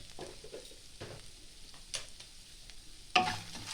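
Spices with Kashmiri chilli and dried chilli fry in a pan, giving a faint, steady sizzle with a few soft stirring strokes and a sharp clink near the end.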